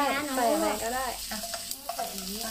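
Food sizzles and is stirred in a frying pan in a home kitchen, a steady close hiss with a few light scraping clicks from the utensil, moderately loud with no talking.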